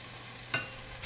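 Tomatoes and eggs being stir-fried with a spatula in a wok, heard as two short scraping strokes, one near the middle and one at the end, quiet against a hushed kitchen background.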